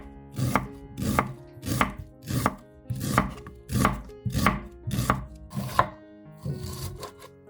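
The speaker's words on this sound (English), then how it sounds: "take half an onion and cut it into strips" A knife chops a purple onion into strips on a cutting board, nine or ten steady, evenly spaced strokes landing close and crisp, with no voices over them.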